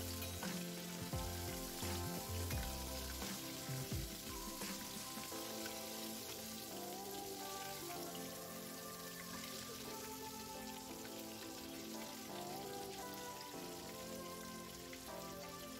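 Pempek, Palembang fish cakes, frying in hot oil, giving a dense continuous sizzle and crackle that stays fairly even throughout, with some low clattering early on.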